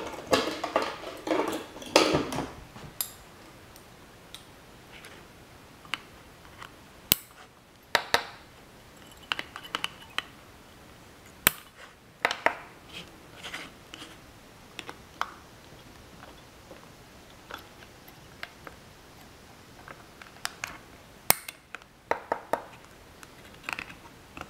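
Small wire cutters snip the coil wire leads on an APO RDA vape atomizer, giving a scattered series of sharp, close clicks and ticks at irregular intervals over a quiet background, with light handling noise between cuts.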